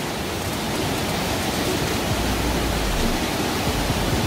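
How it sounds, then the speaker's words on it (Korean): Loud, constant roar of Bidulginang Falls, a waterfall in a basalt-column gorge swollen after rain, dense rushing water filling the scene without pause, no voices. "드디어 비둘기낭 폭포가 보이네요"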